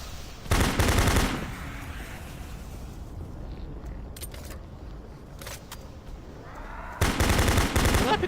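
Two loud bursts of rapid submachine gun fire in Doom 3, about a second each at the start and end, with quieter scattered clicks and rattles between them.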